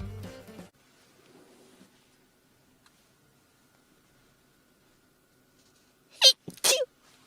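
After a brief voice and a long near-silence, a sharp, close sneeze bursts out in two quick loud bursts.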